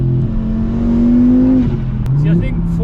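A VW Mk6 Golf R fitted with an Audi RS3 2.5L five-cylinder engine revs loud and close, its droning tone climbing and then dropping, with voices talking over it.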